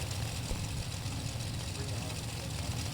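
Idling 632 Chevy drag race engine in a Spitzer chassis car, a steady low rumbling lope with throbbing pulses, loud and continuous with track ambience and a commentator talking over it.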